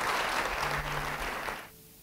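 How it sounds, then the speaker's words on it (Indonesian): A church congregation claps in applause after a sermon prompt, a dense burst of many hands that holds steady, then fades quickly near the end. "Yang percaya beri tepuk tangan buat Tuhan."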